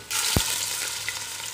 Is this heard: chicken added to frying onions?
yes